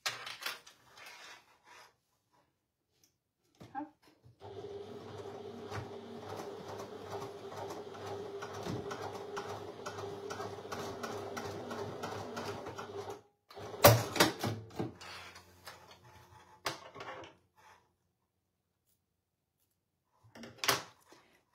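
A sewing machine stitches fabric for a bag, running in a steady close whirring burst for several seconds, then several shorter bursts, with handling knocks and quiet pauses between.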